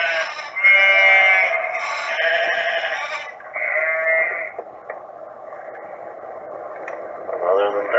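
Sheep bleat loudly and repeatedly on a road beside a fjord at sea level, their wavering calls overlapping one another, heard from inside a car with a faint radio-like tone underneath.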